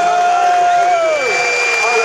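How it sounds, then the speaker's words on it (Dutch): A crowd cheers and whoops for two kickboxers after a WFL 2017 bout, a dense steady roar with a whistle-like tone gliding through, while a voice talks over it. "Geef deze jongens een daverend applaus"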